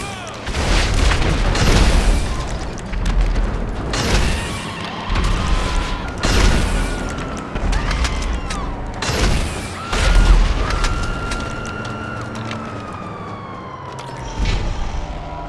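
RPG rockets explode in a video game, several heavy booms landing a few seconds apart amid continuous gunfire, crashing debris and whooshing projectiles.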